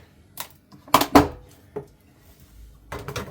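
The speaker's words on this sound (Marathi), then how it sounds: "आता त्याच्यात साखर टाकते मी एक दोन तीन चार" Sugar spooned into a pot of roasted vermicelli, heard as a few separate clinks and scrapes of a spoon against the pot, close, with quiet pauses between strokes.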